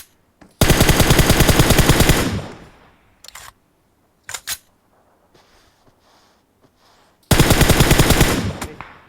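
Automatic gunfire in the battle royale game PUBG: two long, loud sustained bursts of rapid shots at the start and end, with a few short single shots in between and no talk.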